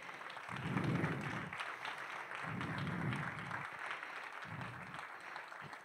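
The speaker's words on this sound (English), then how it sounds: "Give an applause for Mike." Audience applause at a conference keynote rises in three swelling bursts of clapping, with a steady crowd murmur and a clipped voice over the room's noise between them.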